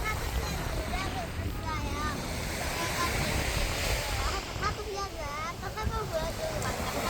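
Steady wash of winter surf on Jungmun Saekdal Beach, Jeju, with wind noise, children's voices and chatter rising over it throughout.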